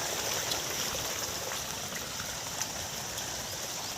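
Liquid bio-input containing bael extract and cow-based bacteria flows through a pipe on a natural farm, a steady, even rush of water that holds at one level throughout with no voices.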